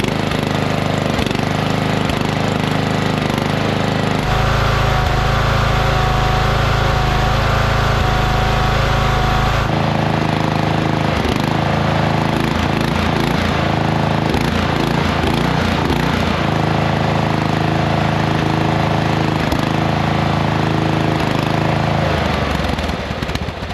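A small engine, running on regular engine oil, idles steadily close by, a loud, continuous mechanical drone with a slight shift in tone partway through and no pauses for the whole stretch.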